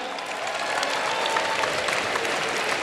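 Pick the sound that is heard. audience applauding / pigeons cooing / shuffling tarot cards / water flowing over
audience applauding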